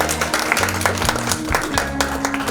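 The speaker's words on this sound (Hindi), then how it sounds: "जोरदार तालियां इनके लिए, जोरदार।" Audience applause at an investors' health and wealth knowledge-sharing session, a steady burst of clapping over a low background hum and some faint voices beneath.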